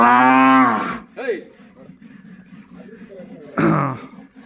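Hallikar cattle on a farm in a village near Magadi give a loud, close moo, then fall quiet before a second shorter moo sounds near the end.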